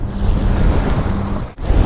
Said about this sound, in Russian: Ох, это метет, а. Просто как буря в пустыне.